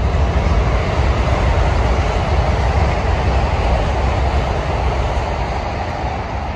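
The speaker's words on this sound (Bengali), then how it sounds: "এই যে একটা বুলেট ট্রেন আসতেছে" A bullet train rushes past near a park by a bridge, a loud, continuous broadband roar that fills the clip and eases slightly toward the end.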